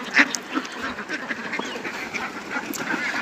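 Healthy farm ducks kept near ponds and a canal give a quick run of nasal quacks, fairly close and moderately loud over a soft outdoor background, with calls overlapping irregularly. Nobody talks.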